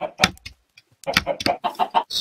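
A Minecraft chicken clucks in a quick series of short, clipped bursts, close and clear, after a brief pause.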